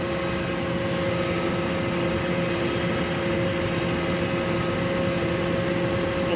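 A small tractor engine labors under a heavy load of hay bales, a loud constant droning rumble with steady tonal hum and no letup.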